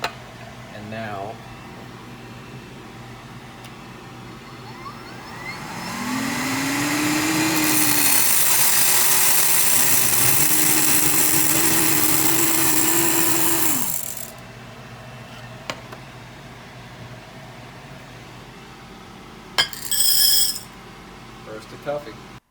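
A small coffee roaster at the very end of a roast kicks into a loud, steady mechanical whir with a rising and falling motor tone for several seconds, then cuts off, leaving faint clicks and handling noises.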